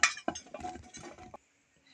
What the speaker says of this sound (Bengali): এবারে একটা কুকার নিয়ে নিলাম, এতে দিয়ে দিচ্ছি গাজর